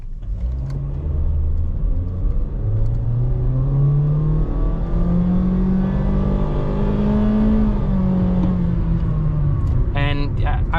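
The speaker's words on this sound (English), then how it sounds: "So I'm gonna go ahead and full throttle it over here." A 2023 Honda HR-V Sport pulls away at full throttle, a loud engine drone rising steadily in pitch for several seconds before settling and fading slightly, heard from inside the cabin with a voice coming in at the end.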